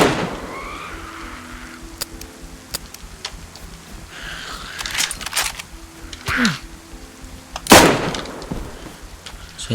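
Scattered gunshots in the video game DayZ: several sharp cracks of varying loudness, ending with one loud blast near the end, over a low background hum.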